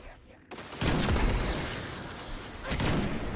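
Sniper rifle fire in the video game Destiny 2: a loud shot cracks out after a brief quiet moment, then a noisy, sustained rumble of gunfire and effects, with a second burst near the end.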